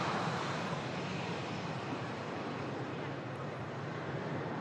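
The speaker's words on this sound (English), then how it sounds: "Is it going to be a British Airways A320neo coming in from Heathrow" A British Airways A320neo arriving from Heathrow, heard as a broad, steady jet roar at moderate distance that holds throughout without clear rise or fall.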